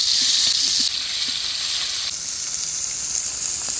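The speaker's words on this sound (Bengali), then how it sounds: "বাইং মাছ ভাজার লাগে তেল তেল গরম হয়ে গেছে, এখন বাইং মাছগুলো দিয়ে দিম" Baim eel fish frying in hot oil, a steady loud hiss of sizzling that fills the whole clip with faint pops and spatters, no voices.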